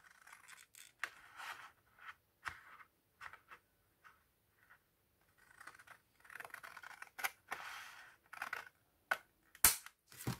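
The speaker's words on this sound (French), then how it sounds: "Je prends mon grand ciseau pour vous montrer. Alors, je coupe que le morceau qui est là." Large scissors cut across the front of a paper bag for a scrapbooking pocket bag, giving a series of close, crisp snips and paper scrapes in irregular bursts, with short pauses between cuts and no talking.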